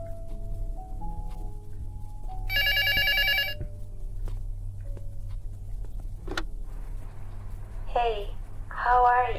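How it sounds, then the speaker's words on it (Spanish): A telephone rings in the horror game Luto, one sharp burst of a bright electronic bell in a quiet, humming room, followed by other faint game sounds. "ya te están llamando por teléfono"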